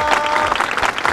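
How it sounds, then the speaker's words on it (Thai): Applause from a group of about 40 children at the close of a Thai science quiz contest, a dense, steady burst of many small hands clapping together at close range, with no talking. "และเสียงปรบมือจากน้องๆ40คน"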